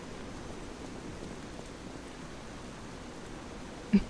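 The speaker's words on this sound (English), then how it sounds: "Oh, and now we're in for a treat. I love the rain." Rain falls on a dark night at a bridge in the video game Lies of P, a steady, soft hiss that continues evenly throughout, with two brief, sharp knocks near the end.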